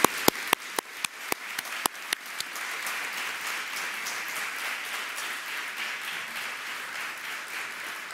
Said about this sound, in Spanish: les pido un aplauso para ellos nuevamente